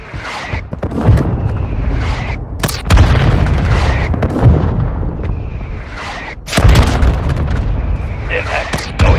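Mortar strike explosions in Warzone Mobile on iPhone, several heavy booms landing in sequence with rumbling aftermath, loud and close, while game radio voices speak over them.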